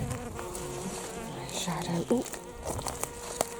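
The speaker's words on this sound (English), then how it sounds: "am I disturbing you little bees?" Bees buzzing around flowers in a spring kitchen garden, a steady close droning hum with a few louder passes near the microphone and wind noise underneath; a voice speaks a single word.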